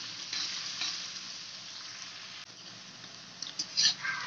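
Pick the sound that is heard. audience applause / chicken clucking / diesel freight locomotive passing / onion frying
onion frying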